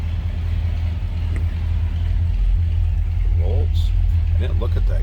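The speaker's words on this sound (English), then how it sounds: "here it's got a nice little throaty rumble to it" A 1963 Ford Galaxie 500 XL engine idles with a steady, throaty low rumble, close and continuous throughout, with brief speech over it near the end.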